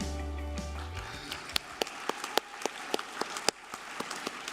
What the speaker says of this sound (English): I need like twice as much applause for that one